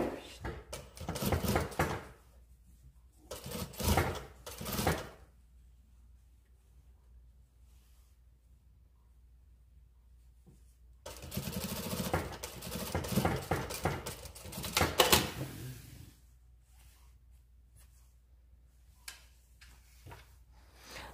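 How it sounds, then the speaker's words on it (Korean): A sewing machine stitches a sailor-collar dress in bursts of rapid, close mechanical clatter, with quiet pauses between runs. "이렇게 해서 여기에서부터 한번 봉제 들어갑니다."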